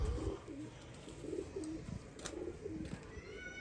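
Pigeons coo softly and steadily in a low, repeated burbling rhythm, faint and close, with no talking over them.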